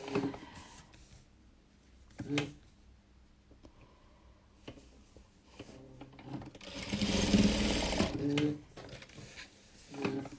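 Sewing machine stitching a patchwork quilt at night, with one longer run of stitching near the end, a few short bursts and clicks before it, and a quiet room between.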